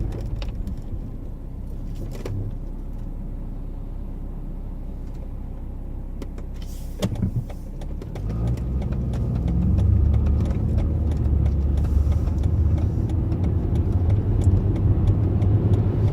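Car driving along a road, a steady engine and road rumble that swells slightly louder toward the end, with a brief clatter near the middle and no talk.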